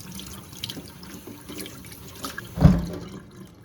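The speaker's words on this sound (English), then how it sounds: "I'm just rinsing the hair before I start to shampoo it." Running tap water streams over hair extensions being rinsed in a sink, a soft steady wash of water close by with an occasional splash as the hair is moved under the flow.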